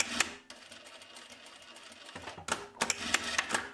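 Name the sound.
sewing machine stitching a vintage Burda coat shoulder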